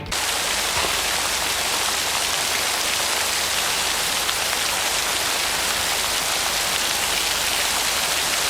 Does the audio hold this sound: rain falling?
yes